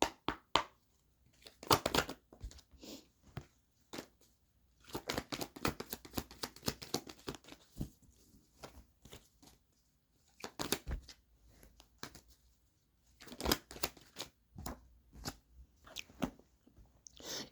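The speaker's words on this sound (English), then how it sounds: "the cards are shuffled" A deck of cards is shuffled in repeated quick riffling bursts with short pauses between, close and fairly crisp, during a tarot-style card reading, with no talking.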